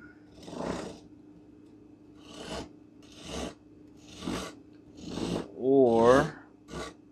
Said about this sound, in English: use the rasp to cut it down pretty quick